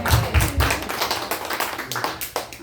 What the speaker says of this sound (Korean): 하나님께 영광의 박수 한번 올려주겠습니다